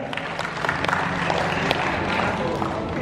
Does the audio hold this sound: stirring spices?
no